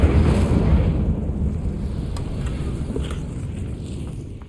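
Incendio fire spell cast in Hogwarts Legacy, a loud roaring whoosh of flame with a rumbling, explosive body that slowly tapers over several seconds.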